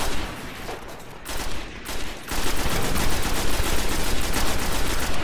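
Rifle gunfire in the video game Destiny, a dense, loud, continuous stream of rapid shots with brief gaps early on before a sustained unbroken burst.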